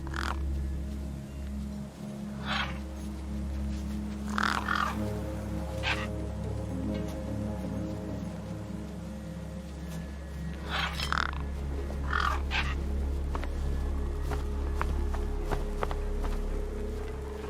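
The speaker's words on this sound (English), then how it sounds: "The gang birds were eyeing up the corpse hungrily." In the Beyond a Steel Sky video game, gang birds caw over a corpse: harsh crow-like calls come in scattered bursts over a steady low ambient hum, with faint shuffling between them.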